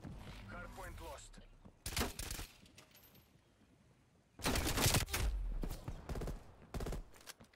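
EM2 rifle fire in a first-person shooter video game comes in two heavy rapid bursts separated by quieter stretches, with a voice briefly audible at the start.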